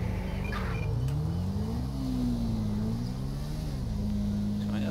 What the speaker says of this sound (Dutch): Ik ga heel rustig gas geven.